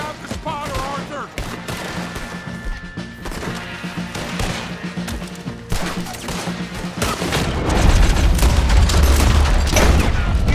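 A Red Dead Redemption 2 battle at a bridge fills with rapid gunfire volleys and heavy cannon booms, growing louder and denser toward the end, while game characters shout over the shooting.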